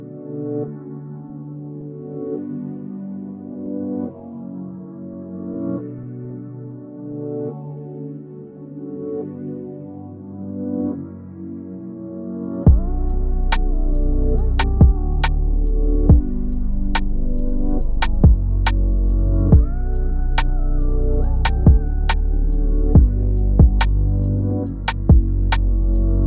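A hip hop beat opens with a soft, hazy synth melody alone, then hard-hitting drums and deep bass come in halfway with sharp, regular percussive hits, loud and up front with no voices.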